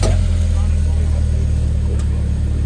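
Steady mechanical drone with a low whining hum, continuous and fairly loud, from a noisy, hot Honda S2000 differential grinding under load.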